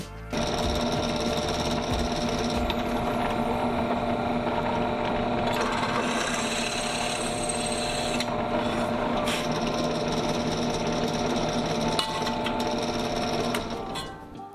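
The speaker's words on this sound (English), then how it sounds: "let's get drilling these parts" Aluminium main spar parts for a Sonex aircraft being drilled, a steady, loud, continuous whine of a drill running close by for nearly the whole stretch, with brief pauses and shifts in pitch.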